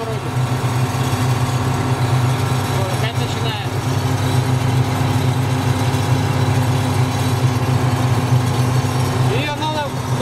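A Ural logging truck drives at highway speed with a damaged frame tube and wheel runout. It gives a loud, constant low drone and cab vibration, with faint rattles, while someone talks throughout.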